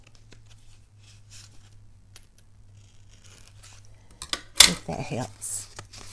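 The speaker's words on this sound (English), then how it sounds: "Let's just rip the envelope." Near the end, a short burst of tearing paper rips loudly, following quiet rustling and handling noises; a person speaks briefly.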